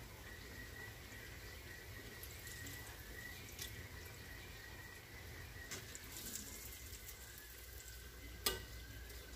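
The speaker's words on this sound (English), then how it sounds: "They start cooking faster once that oil gets hot." Cake doughnuts frying in hot oil, a soft continuous sizzle and bubbling throughout, fairly quiet, with a brief clink near the end.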